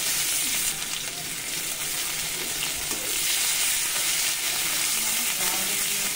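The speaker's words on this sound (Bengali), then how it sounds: "দিয়ে দিচ্ছি কেটে রাখা পেঁয়াজ।" Chopped onions sizzle in hot oil in a pan, added after whole spices for a Bengali fish curry with drumsticks; a steady, dense frying hiss runs throughout with no talking.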